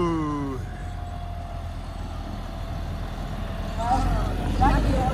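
A pulling tractor at Kelsall Steam Rally idles on tick over, a low, steady engine rumble close by that rises slightly near the end, with people talking over it.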